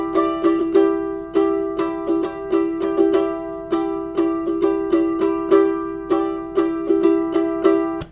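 A ukulele strums the intro riff of "Superstition" with quick, crisp percussive strokes in a steady repeating rhythm, played alone, close and fairly loud.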